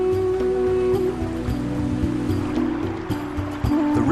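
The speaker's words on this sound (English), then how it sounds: "The river here flows over other sacred icons." A river in the Angkor region of Cambodia flowing over stones and carved linga in its riverbed, a steady rushing wash of water with an even, continuous roar and no voices.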